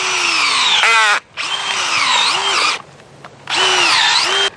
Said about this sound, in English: This is pretty small and it's still having a hard time going in this solid dirt until I get below the frost line.